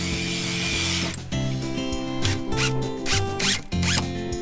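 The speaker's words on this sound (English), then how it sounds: "Then make a counter bore in the place where the screw goes and screw it in." A screw is driven into a wooden staircase board with a power driver, giving several short whirring bursts with squeaks and ratcheting clicks between them, close and moderately loud.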